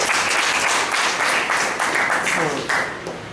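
A room of attendees at a speech evaluation meeting breaks into dense, steady applause, many hands clapping together at close range.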